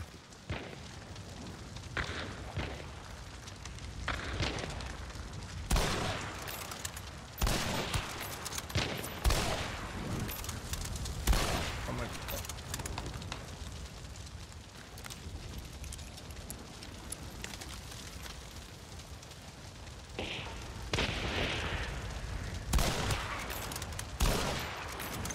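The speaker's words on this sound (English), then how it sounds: "He's getting shot in the back." Video game gunfire as a player is shot in the back: repeated sharp shots and rapid bursts, near and far, scattered across a long firefight with some heavy booms, no talking.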